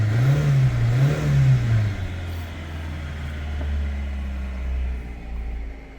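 A 1999 Mitsubishi Pajero Mini 4x4 with a small-displacement engine revs in a low rising-and-falling drone, two swells early on before settling to a steadier idle hum, close and alone.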